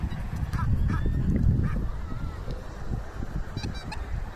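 Swans call with nasal honks at a pond, several short, moderately loud calls over a rumbling outdoor background, with waterfowl nearby.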